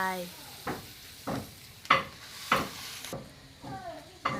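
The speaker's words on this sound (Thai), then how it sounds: "คนให้น้ำตาลกับเกลือ" Sugar and salt being stirred into coconut milk in a pot over a stove, heard as a series of short scraping strokes under a low background hiss.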